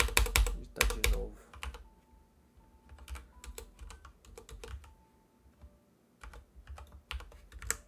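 Computer keyboard typed on in bursts, with a fast clatter of keystrokes at the start and then scattered clusters of taps with short pauses, close and clear, no voices.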